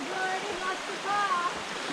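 A creek runs through bushland in south-east Queensland, giving a steady, close rushing wash of water, with a few faint bird chirps above it.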